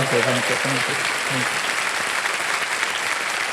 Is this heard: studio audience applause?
yes